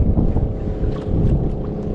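A steady low engine drone with rushing wind and water noise from several fishing motorboats running close by.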